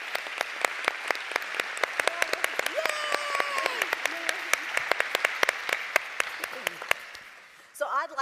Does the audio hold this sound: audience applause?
yes